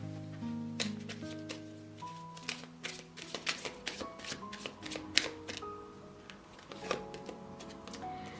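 Oracle cards being shuffled, a quick run of crisp flicks and riffles with soft taps, steady and close over faint tonal music in the background.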